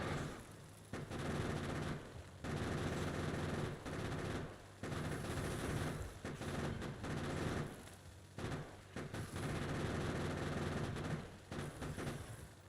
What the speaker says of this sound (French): Perso, après, je finis à la mitrailleuse.